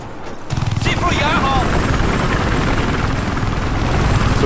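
A helicopter in the video game Battlefield 4 roars with a loud, steady rotor thump after a brief quiet start, while players talk over it.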